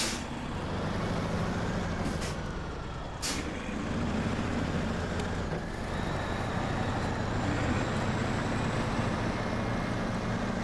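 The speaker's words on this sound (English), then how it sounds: "I always forget how loud this truck actually is." Heavy truck engine in the Snowrunner off-road driving game, a loud, continuous low rumble with hissing bursts like air brakes near the start, steady throughout without speech.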